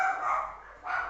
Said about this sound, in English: Sorry for my dogs, I can't do anything.